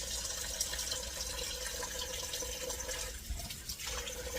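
Water poured over a fish being cleaned, a close running, splashing flow like a tap stream that continues steadily with a brief dip partway, no talk.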